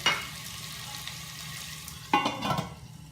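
Pumpkin pieces cook in a lidded pan over a low flame, giving a soft, steady sizzle with a couple of brief louder frying bursts.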